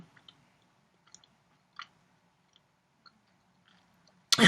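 Soft, close chewing of food during a casual live stream, scattered small crunchy bites and mouth sounds in near silence, ending with a sudden louder rustle.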